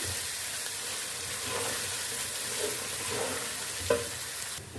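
Steady sizzling of garlic, ginger and chili frying in a hot pan, with faint stirring scrapes and a brief clatter near the end; no talking.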